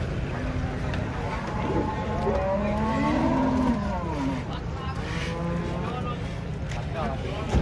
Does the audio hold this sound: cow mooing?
yes